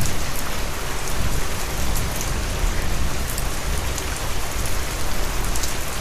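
Steady rain falls on a rainy monsoon day, a dense, even hiss of drops on surfaces that holds at the same loudness throughout, with no talk over it.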